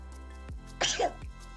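One close, forceful sneeze erupts after a short breath in, standing out clearly against a quiet background.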